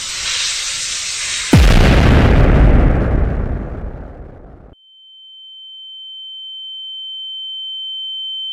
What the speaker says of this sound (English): Using it, we blow up the plant.